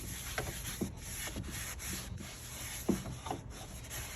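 Steady rubbing strokes as Howard's Finish Restore is worked by hand into old wooden radio furniture, a continuous soft scrubbing with a few sharper scuffs, close and alone with no talking.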